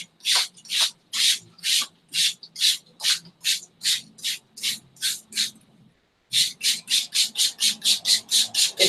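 Rhythmic bursts of spray paint hit a fabric chair, about twenty short hissing pulses in quick succession, a brief pause near the middle, then a faster run of sprays, close and fairly loud with no talk.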